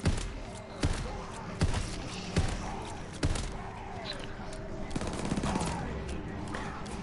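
Repeated gunshots from a shotgun in a video game, sharp blasts landing roughly every second over a steady game background, with a voice talking faintly in places.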